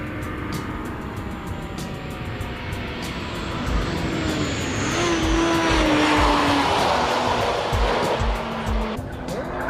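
A 1,600 cc Honda Type R engine screams around a racing track, revs rising and falling through gear changes with a loud, near, continuous high-pitched whine and occasional tyre noise.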